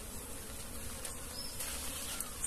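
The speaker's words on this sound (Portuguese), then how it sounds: "olha o tanto de abelha aqui tirando água aqui" Bees, including small black bees and Italian honeybees, buzz steadily around a natural water hole in the woods, a dense insect drone sustained throughout with no talking.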